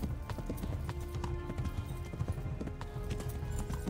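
In the medieval video game Kingdom Come Deliverance, a horse gallops with quick, even hoofbeats that thud continuously close by, mostly alone with no talk over them.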